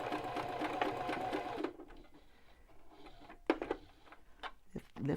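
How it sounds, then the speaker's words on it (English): A sewing machine back stitching at the end of a seam on a fabric face mask, a steady close mechanical whir that stops abruptly, followed by light clicks and handling noises. "And when you get to the end, you're going to back stitch."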